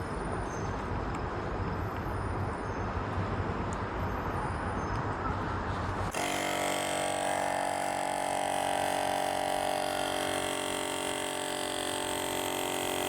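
An electric foam sprayer running and building pressure: a steady motor hum with hiss, which shifts abruptly midway to a smoother, tonal whirr as the unit keeps running, moderately quiet and with no talking.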